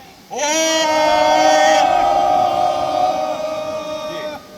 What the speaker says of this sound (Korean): 우리 모두 격려의 함성화를 힘차게 3초간 외쳐주시기 바랍니다.